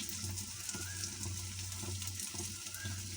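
Chicken chaap pieces coated in gram flour fry in hot oil, giving a soft, steady sizzling hiss with a low hum beneath and faint intermittent clicks, quiet and unbroken.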